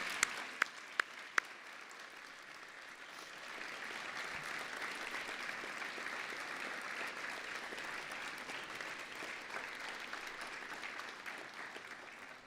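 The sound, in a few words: applause at a graduation ceremony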